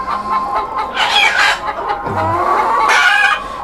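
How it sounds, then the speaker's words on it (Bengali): A desi hen on a poultry farm raising desi and Sonali chickens clucks loudly and close, in repeated bursts with brief pauses between them. "এই যে দেখুন আরেকটা দেশি মুরগি"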